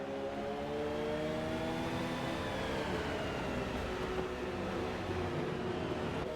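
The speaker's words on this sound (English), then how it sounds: "this is the 2015 Porsche RSR" The 2015 Porsche RSR race car in a racing video game at Catalunya, its engine note rising steadily under load in a continuous moderate whine with a faint whir beneath.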